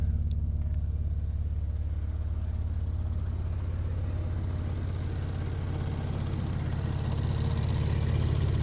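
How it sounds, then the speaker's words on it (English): A car with a loud exhaust idles steadily, a deep continuous rumble holding nearly constant with faint mechanical texture above it. "But that is so loud, that exhaust"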